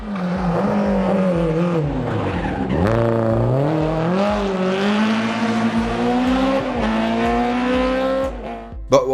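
A rally car in the EA Sports WRC video game is pulled into a handbrake drift. The engine drones loudly and its pitch climbs, falls and sweeps again, tyres squeal through the slide, and a short knock comes at the end.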